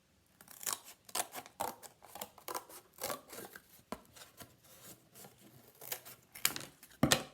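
Scissors snip steadily through a paper or card circle template for making a pom-pom, a close, quiet series of crisp cuts in an uneven rhythm, with a sharper snip at the end.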